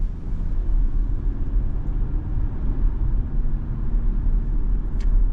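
A 2023 Hyundai Tucson N-Line with all-wheel drive pulls away, giving a steady low rumble of engine and road noise that holds at a constant level with no voices.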